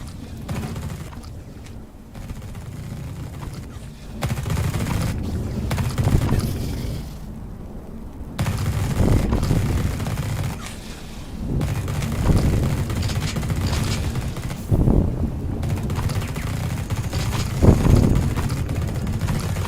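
Gunfire in the sci-fi tactical video game The Red Solstice: repeated booming bursts of shots and explosions, loud and close, recurring every few seconds over a steady rumbling backdrop.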